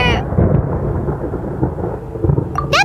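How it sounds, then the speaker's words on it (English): Deep, rolling thunder in the video game Genshin Impact, a long low rumble swelling and fading across the stretch, loud and close, with a brief high-pitched chime at the end. "Paimon hears thunder!"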